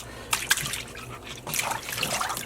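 Green dish soap poured into a pot of dye pre-soak water for Polwarth wool fiber, a faint close trickle and splash in short bursts.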